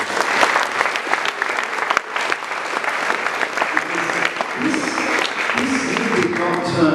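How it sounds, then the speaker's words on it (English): Sustained audience applause at a school graduation ceremony, dense steady clapping filling the room throughout, with a few voices and cheers mixed in toward the end. "Can I have just a very quick round of applause, please?"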